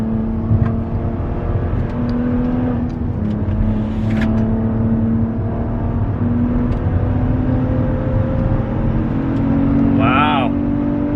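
A 2020 Maserati Levante SQ4 SUV drives hard, its engine droning and pulling strongly from inside the cabin as steady road noise continues, with someone talking over it.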